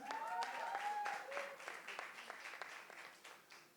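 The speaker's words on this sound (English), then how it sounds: "can we have a round of applause once again for our dear friends?" Moderate applause at a press conference for a film's star cast, fairly distant and fading toward the end, with voices heard over it.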